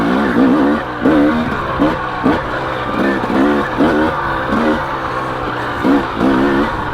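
A KTM 250XC or 300XC two-stroke dirt bike engine pulls hard in second gear, rising and falling through repeated revving bursts, close and loud with no talking.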